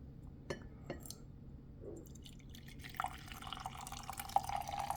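Turkish dibek coffee is poured from a pot, giving soft drips and a light clink of glass, followed by a thin, steady trickle of liquid that slowly grows louder.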